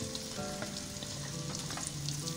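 Two medium onions fry in hot oil toward light brown for a beef yakhni pulao, a dense, steady sizzle close up with no voices.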